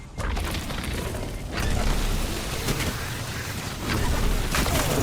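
A rocket explosion in a video game lands with a booming burst, followed by rumbling debris and a second loud blast near the end, with no talk.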